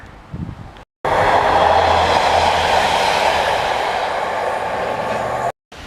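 A train rumbles past nearby on the railway beside the England Coast Path between Redcar and Middlesbrough, its loud steady roar and rattling wheels filling several seconds before cutting off abruptly.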